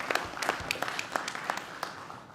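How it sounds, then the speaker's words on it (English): Sparse, fairly faint clapping from attendees at a police commissioners' board meeting, welcoming police interns, with individual claps standing out rather than forming a full roar. "round of applause. We appreciate you."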